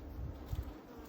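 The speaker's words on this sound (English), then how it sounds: "you can see the bees" Honey bees buzz close around a queen cage, a steady low drone with brief swells as insects pass near.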